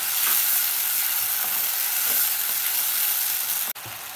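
Tomato puree sizzles steadily in a frying pan with green chillies and garlic, a loud continuous hiss broken by faint stirring scrapes, cut off briefly near the end.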